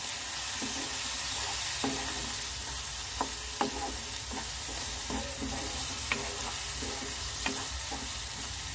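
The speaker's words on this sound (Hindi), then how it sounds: "मसालों को बहुत अच्छे से भूनेंगे हम।" Spices for a paneer curry roasting in a pan while being stirred, a steady sizzle with irregular scraping and clinking of the spoon against the pan, close by, no voices.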